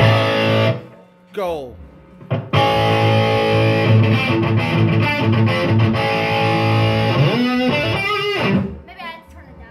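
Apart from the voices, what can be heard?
Telecaster electric guitar shredding with distortion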